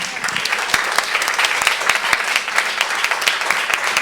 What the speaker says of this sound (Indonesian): Setengah menit beri tepuk tangan untuk Tuhan.